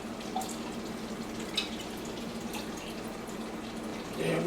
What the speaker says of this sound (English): Rinse that can out good.